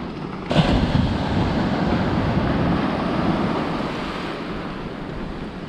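Surf rolls in on Holden Beach, North Carolina, tossing shells along the shore: a constant loud wash of breaking waves mixed with wind rush.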